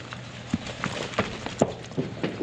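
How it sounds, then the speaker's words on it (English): Horse hooves clip-clop at an even walking pace on a hard floor into a stall, each step distinct and moderately close, over a low background hum. "we're going to get right on it and get the horses in the stalls"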